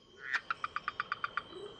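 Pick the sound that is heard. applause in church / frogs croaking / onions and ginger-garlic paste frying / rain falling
frogs croaking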